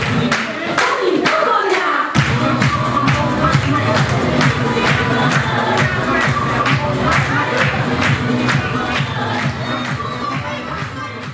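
At a children's New Year carnival, a crowd breaks into loud, sustained applause with rhythmic clapping and cheering as Santa Claus and the snowflakes appear on stage. The ovation stays steady for the whole stretch.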